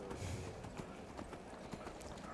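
Horse hooves clip-clop steadily over rocky ground in the video game Skyrim, a quiet, even walking gait under a low background bed.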